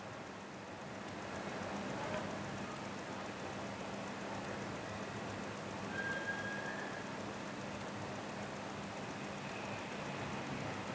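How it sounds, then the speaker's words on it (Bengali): Dried lotia fish fries with garlic and onion in hot oil, producing a dense, steady, rain-like sizzle that holds close and even throughout. "এখন শুটকিটা আর রসুনটা ভেজে নিব।"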